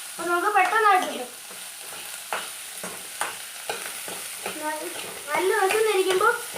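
Food is sautéed in a pan over a high gas flame, with a continuous sizzle and intermittent scraping stirs, while a voice speaks over it at the start and end.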